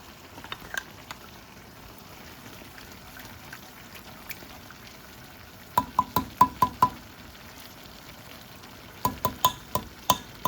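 Canned green chilies scraped from the can into a pot of no-bean chili: quiet soft rustling at first, then clusters of sharp, close metallic taps of a utensil knocking against the can and pot rim.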